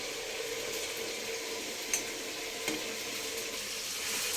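Vegetables for a vegetable pulao fry in oil, giving a steady, even sizzle with faint crackles and a couple of small pops, close and moderately quiet, with no voices.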